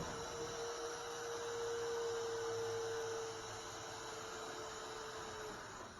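A hydraulic vehicle lift lowers a car until its tire touches the ground during wheel installation in a lab, giving a steady electric hum with a held whine that cuts off partway through over constant background noise.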